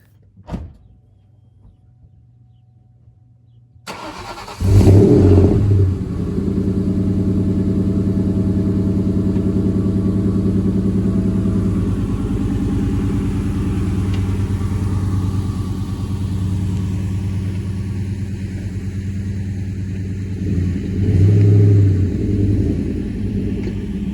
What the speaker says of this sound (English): got the GT out and decided to move it out of the way